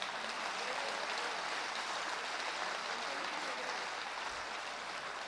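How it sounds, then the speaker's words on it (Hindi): An audience at a Hindi comic poetry gathering in Nashik applauds after a poem, a soft, continuous wash of many hands clapping together, even in loudness from start to finish. "कविता खत्म हो गई, आपको ताली बजाना होगा।"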